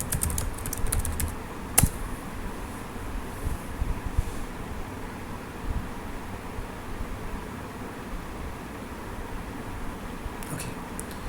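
Computer keyboard typing, steady soft key taps of login credentials being entered, close and fairly quiet against faint room noise, with no one speaking.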